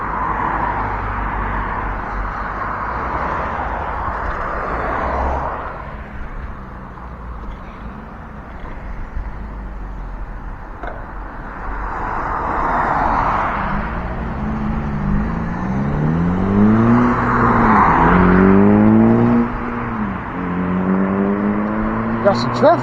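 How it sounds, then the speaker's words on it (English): Cars go by one after another on a hot afternoon road, swelling and fading as they pass close by, with a steady roar beneath and a rising whine near the end; no one speaks. "some traffic out here"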